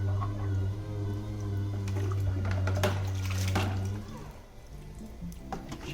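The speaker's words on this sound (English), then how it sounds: "you can just run a hose through it and it'll pretty much clean it" Water from a garden hose rushes steadily through a Wagner Power Tex texture gun during cleaning, a continuous near splashing flow with a low hum that fades in the last two seconds.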